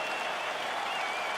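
Crowd in the UFC 4 video game applauding and cheering steadily as a fight gets underway, a dense, continuous wash of clapping with no pauses.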